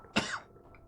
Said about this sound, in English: I'm hoping I'll stop coughing soon